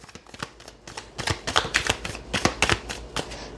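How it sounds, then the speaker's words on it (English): Tarot cards being shuffled by hand up close: a steady run of crisp riffling flicks and slaps, fairly loud, with no talking. "Do you like seeing me shuffle the cards?"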